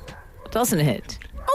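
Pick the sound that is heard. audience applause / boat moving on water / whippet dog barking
whippet dog barking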